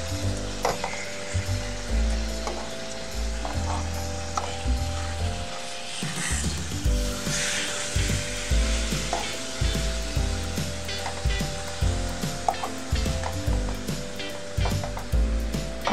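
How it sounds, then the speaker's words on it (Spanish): Onion and garlic fry in a pan for pork chops in pasilla chile sauce, with a steady sizzle throughout and repeated scraping and clacking as the pieces are turned. No one speaks. "Vamos volteando nuestra cebolla, otra vez nuestros ajos."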